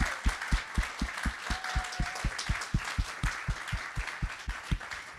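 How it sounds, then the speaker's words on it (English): An audience applauds for Rosa at a child development center in West Haven, Connecticut, a steady patter of many hands clapping with a strong rhythmic beat, fairly loud and with no talk over it. "Can we please just applaud Rosa?"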